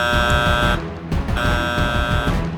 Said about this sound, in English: At the lookout, George's accident had been seen and the alarm raised